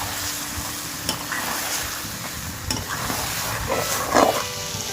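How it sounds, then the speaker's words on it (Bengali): Parboiled jackfruit and potato are stirred with spices in a pan for echor chingri, with a continuous sizzle and repeated scraping strokes and knocks of the spoon at close range. "সব মশলার সাথে এঁচোড় আর আলু ভালো করে মেশানো হয়ে গেছে"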